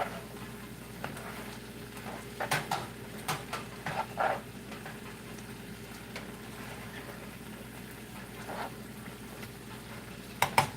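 Garlic butter shrimp and broccoli are stirred in a hot pan, a soft continuous sizzle under scattered scraping clicks of a utensil against the pan, with a final cluster of sharper taps.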